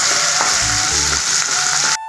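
Onions sauté in a pan for capsicum chutney, a loud steady sizzle with low rumbling stirs and a brief clink before it cuts off near the end.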